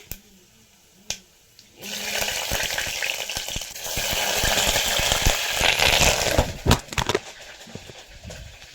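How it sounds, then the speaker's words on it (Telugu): After a brief quiet moment with a couple of clicks, a loud sizzle bursts in and keeps going, full of crackling pops as tempering spices fry in hot oil. "ఆయిల్ వేడయ్యాక ఇందులో పోపు దినుసులు వేసుకోవాలి."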